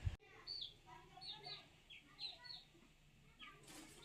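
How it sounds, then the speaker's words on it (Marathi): A hen clucks softly in short, scattered bursts amid higher chirps, fairly quiet with light background noise. "ही कोंबडी आमचीच आहे हां"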